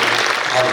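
A seated audience at a Shrimad Bhagavat Katha gathering in Vrindavan claps loudly and densely to welcome a speaker, a brief, sustained burst of applause.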